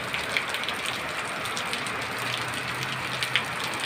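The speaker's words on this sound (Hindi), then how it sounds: "बहुत तेज बारिश हो रहा है आज।" Heavy monsoon rain pours steadily on a rural area beside flooded fields, a constant broadband hiss with occasional louder drips and splashes close by and no talking.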